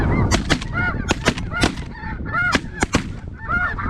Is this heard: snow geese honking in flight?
yes